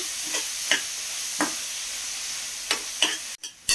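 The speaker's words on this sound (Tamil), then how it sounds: "இப்போ வெங்காயம் கொஞ்சம் வதங்கிடுச்சு" Sliced onions with salt and green chilli sauté in a pan, giving a steady soft sizzle broken by occasional sharp stirring scrapes and taps of a spoon, close up, with no voices.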